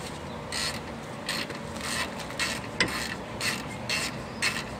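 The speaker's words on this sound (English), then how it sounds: "I am trying to take the caliper off, the whole caliper, that way I can access the rotor." Ratchet or wrench working on a car brake caliper being removed to reach the rotor: a series of soft, repeated ratcheting bursts at a moderate pace, somewhat distant over steady background noise, with one sharper clank midway.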